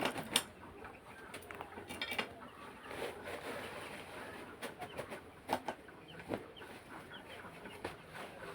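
Chicken chicks peep and chirp in scattered bursts, mixed with brief clicks and clatter, at moderate distance with no talking.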